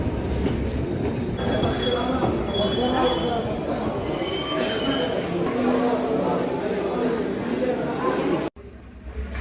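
A passenger train on the Panchagarh to Dhaka line pulls into a station with a loud, steady rumble of wheels and cars. Faint squeals sit on top, with people talking nearby, and the sound cuts off abruptly near the end.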